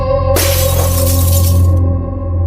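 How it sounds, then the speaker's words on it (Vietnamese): Window glass shatters loudly in a sudden crash, the broad burst lasting over a second before cutting off, heard over a steady low hum within a dark house in a Roblox horror setting. "Thật sự là kính cửa sổ vừa mới bị ai đó phá nát."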